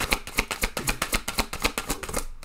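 Tarot cards are shuffled up close in a quick, even rhythm of about ten crisp papery flicks, fading out at the end, with no voices.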